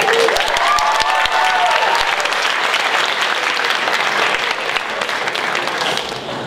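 An audience at a Year 12 school showcase breaks into loud, sustained applause, dense clapping from many hands that carries on steadily and only begins to ease toward the end.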